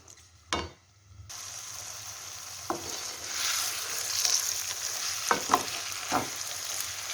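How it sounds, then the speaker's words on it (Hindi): Semolina for makhandi halwa fries in hot oil with a continuous close sizzle that swells partway through, punctuated by several distinct spoon scrapes and knocks against the pan, with no talk. "आपने मुसलसल इसके अंदर जो है वो चम्मच चलाते रहना है।"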